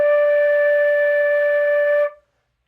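A flute holds a low D as one steady, sustained tone for about two seconds, close and clean with rich overtones, then cuts off cleanly into silence.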